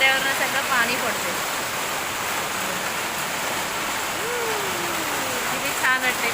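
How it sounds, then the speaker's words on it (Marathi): Heavy rain pours off building terraces and tin roofs, a steady rushing splash of falling water close by, with a voice talking over it at times. "सगळ्यांच्या टेरेसवरनं पत्र्यावरनं सगळं पाणी पडते"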